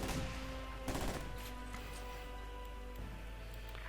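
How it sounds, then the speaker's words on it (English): Mortar and small-arms fire in the World War II strategy game Company of Heroes 2 during a 1v1 match, with a burst of booming shots at the start and another near one second, then steady battle rumble under sparse commentary. "Some mortar firing away there."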